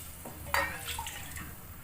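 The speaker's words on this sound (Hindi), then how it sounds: "मैंने ना 2 कटोरी पानी डाला है" Water, about two bowls' worth, poured into a cooking pot in a home kitchen, heard as one brief, fairly quiet splash surrounded by soft background noise.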